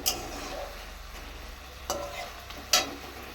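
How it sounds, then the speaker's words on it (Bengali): A vegetable curry with added water simmers in a covered pot, giving off a quiet, steady hiss. A few sharp clinks, likely from the lid or a utensil, punctuate the soft bubbling. "তরকারিতে জল দিয়ে দিয়েছি এখন ফুটছে এখন ঢাকা দিলাম ততক্ষণ ফুটুক"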